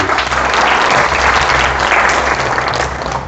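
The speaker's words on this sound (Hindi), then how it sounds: "एक बार अपने लिए जोरदार ताली बजाइए" Staff gathered at R.Mall in Ghodbunder, Maharashtra, break into loud, sustained applause, a thick wash of clapping from a close crowd that holds steady throughout with no voices over it.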